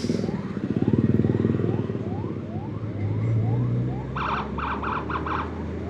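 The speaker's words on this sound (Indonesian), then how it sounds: "Oke, ini kayaknya mobil dereknya guys." A tow truck passes slowly through a long traffic jam on the Pantura coastal road, heard from a touring motorcycle; engine rumble and idling traffic fill the scene, with a siren-like warbling tone and short bursts of a horn or beeper toward the end.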